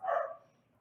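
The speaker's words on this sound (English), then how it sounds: "I think you can probably hear my dogs." A Klee Kai and an Australian Shepherd bark indoors, giving a single short bark that fades quickly and sounds somewhat distant.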